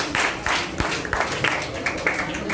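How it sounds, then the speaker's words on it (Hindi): A lecture audience applauds in a short, uneven patter of hand claps that stays fairly close and moderately loud, with some murmuring mixed in. "ताली तो बनती थी"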